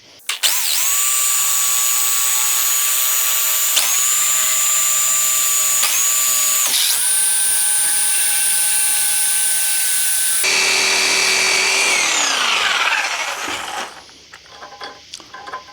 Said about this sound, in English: start drilling into it, and then just deforming it enough